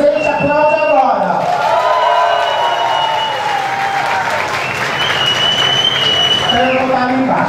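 A matinee audience at a drag show applauds through the clip, a loud continuous wash of clapping and cheering, with a voice talking over it.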